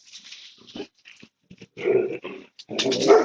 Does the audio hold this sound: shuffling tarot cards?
no